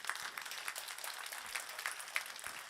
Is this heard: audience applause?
yes